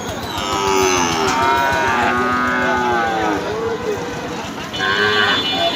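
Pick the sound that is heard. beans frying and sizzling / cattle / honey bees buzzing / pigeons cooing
cattle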